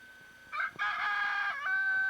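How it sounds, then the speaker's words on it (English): A chicken crows on a home property, a single rooster-style crow rising and holding for over a second, fairly near and clear against quiet outdoor background. "Tom, be kind to that chicken"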